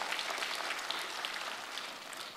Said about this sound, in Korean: 수고하신 자녀들을 위해서 격려의 박수로 드리도록 하겠습니다